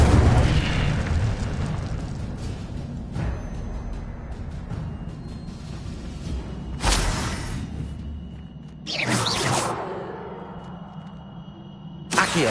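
A spell blast from the Incendio fire spell in the Hogwarts Legacy game: broad explosive bursts with whooshing flare-ups over a rumbling game soundscape, several loud surges spaced through the scene.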